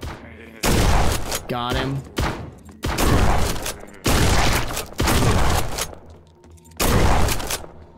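Revolver shots in the shooter game Forgive me Father 2, a series of loud close blasts, about six, spaced roughly a second apart with brief gaps and clicks between, a voice speaking briefly among them.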